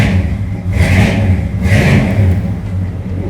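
A 1972 Chevrolet Chevelle SS convertible with a matching-numbers engine rumbles loud and near, swelling in two revs of the throttle over a deep, steady idle.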